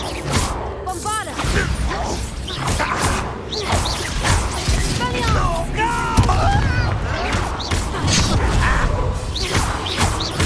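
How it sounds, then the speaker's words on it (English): A Bombarda blasting spell in Hogwarts Legacy, with whooshing bursts, crashes and thuds amid loud combat effects and spoken voices. "Bombarda."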